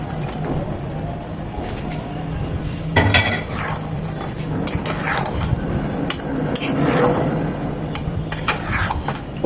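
Fried chicken pieces being mixed into a thickened garlic sauce in a pan, with scattered metallic clinks and scrapes of a utensil against the pan over a steady background hiss, close and moderately loud.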